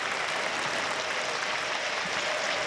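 Stadium crowd applauding a lap of honour at the Stadium of Light during a Sunderland football match, steady dense clapping filling the whole stretch with no pauses.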